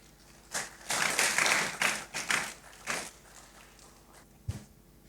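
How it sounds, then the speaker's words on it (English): Audience applause at a marketing summit keynote: a short, moderately loud round of clapping that rises, swells and fades after a few seconds, with a dull thump near the end. "I think she deserves another round of applause."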